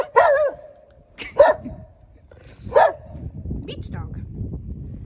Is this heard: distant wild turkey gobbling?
no